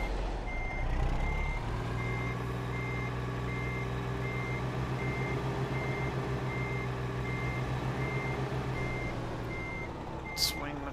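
A semi truck with a trailer backs toward a loading dock, its backup alarm beeping in a steady repeating rhythm over a low diesel idle, with a short hiss of air brakes near the end.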